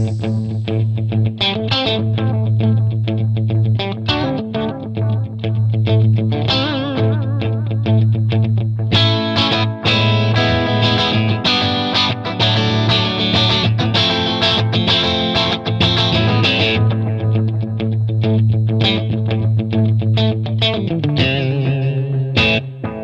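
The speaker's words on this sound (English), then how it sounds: "Now let's hear the standard delay setting." Electric guitar played through a Carbon Copy analog delay pedal on its standard delay setting, a steady distorted strummed part with repeating echoes trailing each note, loud and continuous with no talking.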